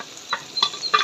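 Chicken liver isn't stated; liver frying with onions, peppers and garlic sizzles softly in a pan while three quick stirring scrapes cut through, close and brief, no speech.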